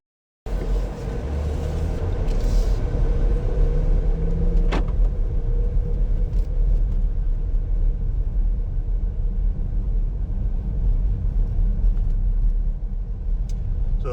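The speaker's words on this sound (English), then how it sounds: "We're just going to drive up the street a little bit." A car pulls away from a house and drives up a residential street in Lake Havasu City, with steady engine rumble and road noise close inside the cabin throughout, plus a couple of brief clicks and no talk.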